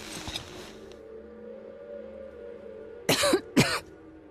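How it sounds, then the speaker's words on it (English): A game character in Metro Exodus, a post-apocalyptic shooter, gives two harsh, close coughs in quick succession after a stretch of low ambient hum and faint background sound. "Cough like this is really not good."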